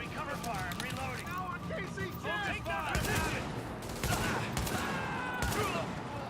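Gunfire in the shooter game The Division, with sharp rapid bursts of shots crackling over a busy in-game soundscape while voices talk throughout.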